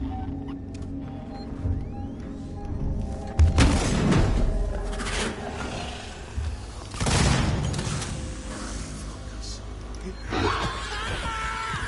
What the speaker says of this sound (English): Let's use pipe bomb.